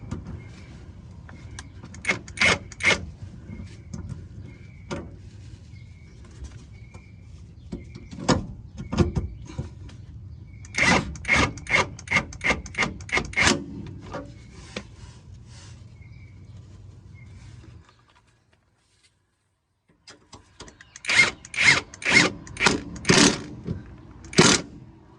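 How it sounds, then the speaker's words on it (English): Bolts being refitted on a Lexus ES350 sway bar bushing bracket, heard as bursts of rapid mechanical clicking and ratcheting over a steady low hum, pausing into near silence before a final loud run of clicks. "Take the bolts, put them back on."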